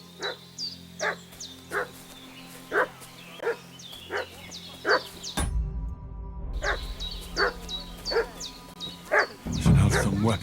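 A dog in Kingdom Come: Deliverance II barks in a steady run of sharp, evenly spaced yaps. The barking breaks off briefly midway, then resumes over a low rumbling background.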